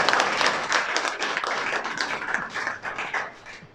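A crowd at a teachers' honoring ceremony claps in a dense, sustained round of applause that gradually thins and fades.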